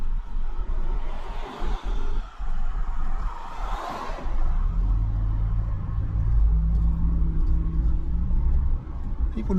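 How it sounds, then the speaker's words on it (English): Cars pass on the road up to Devils Tower while an RV pulls over to let them by: a steady low engine rumble with a broader swell of passing traffic near the middle, and no voices. "I got some cars behind me. I'm going to let them pass me."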